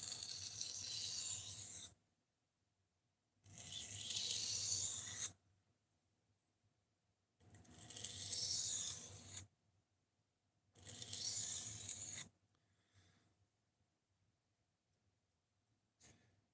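A knife drawn backwards across a sharpener with light pressure to knock off a burr gives four separate raspy strokes of about two seconds each, close and fairly quiet, with silent gaps between them and no talking.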